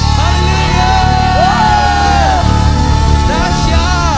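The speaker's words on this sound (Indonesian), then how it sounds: "Berikan sorak-sorai kemenangan buat Tuhan" A worship congregation at an Indonesian revival service shouts and cheers in victory for God, loud overlapping whoops and cries rising in waves over a steady low instrumental hum, with voices swelling again near the end.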